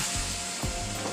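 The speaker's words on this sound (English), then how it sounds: "You can probably hear the fry" Plantain slices frying in hot grease give a steady, close sizzle with faint crackles throughout, no voices over it.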